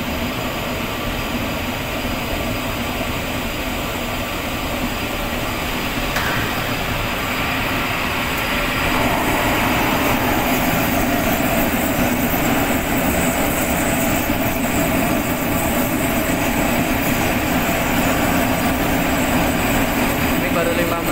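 Fire roars inside a cremation furnace, a dense, loud rushing and rumbling that carries on without a break and swells a little partway through, with a low hum of machinery under it.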